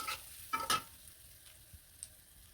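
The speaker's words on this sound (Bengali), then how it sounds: "আর পেঁয়াজগুলো কিন্তু খুব সুন্দরভাবে ভাজিয়ে নিলাম" Chopped onions fry in a pan with river fish heads, giving a quiet sizzle. Two or three brief scraping stir sounds come through near the start.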